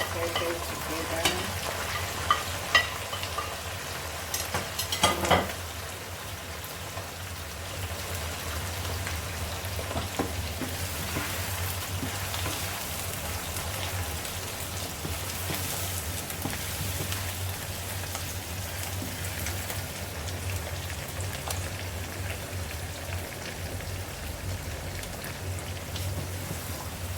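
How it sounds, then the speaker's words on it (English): Onions and pepper frying together in a pan for garden egg sauce, a steady crackling sizzle like light rain with a few clattering stirs early on, close and continuous. "Fry our onions pepper together."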